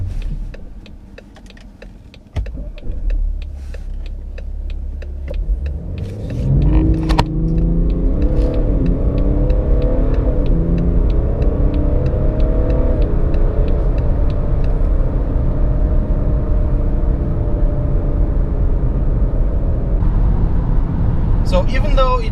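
A 2017 BMW 330d xDrive GT diesel idles, then launches hard from a standstill, its engine roaring up through gears in a loud, continuous surge heard from inside the cabin, with the tone stepping up at each shift.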